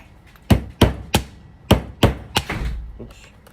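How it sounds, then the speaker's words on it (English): A small hammer taps a wedge to pry apart a fused Kydex purse holster for a Sig P365XL: about seven sharp, close knocks in an uneven rhythm, each with a short ringing decay, the last few softer and more muffled. "My wedge and my little hammer here."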